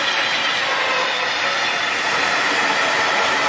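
A heavy-duty LeBlond 19 x 54 inch lathe spins at full 1600 RPM, a constant, loud, broadband roar and hiss that stays even throughout, with no talking.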